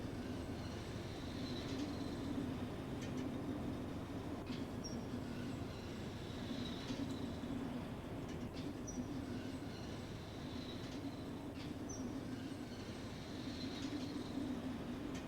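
A train runs on rails in Derail Valley with a steady low rumble and rolling drone, and faint periodic clicks and squeals come back every few seconds at a soft, even level with no voices.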